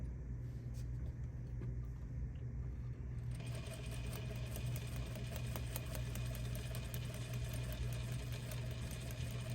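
A sewing machine stitches quilt block fabric, a steady close mechanical whir that speeds up and brightens after a few seconds of slower running, with no talking.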